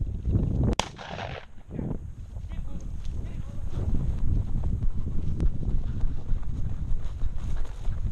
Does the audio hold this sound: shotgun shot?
yes